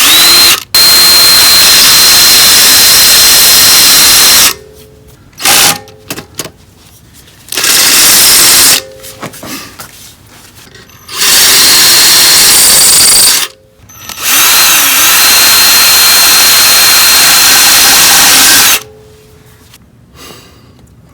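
A power drill with a 3/8-inch bit bores holes into the steel muffler of a Yamaha XSR700 motorcycle exhaust in about five loud, close bursts of high whine, separated by short pauses.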